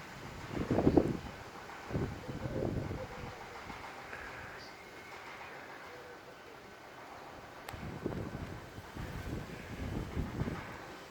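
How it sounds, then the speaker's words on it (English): Strong outdoor wind near a pool gusts across the microphone in low, rumbling buffets, loudest at the start and again toward the end, with a calmer stretch in between. "So much wind here."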